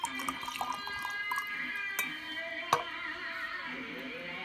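Crown Royal Apple whisky is poured into a glass, a soft trickling and dripping of liquid punctuated by a sharp clink of glass, close and fairly quiet.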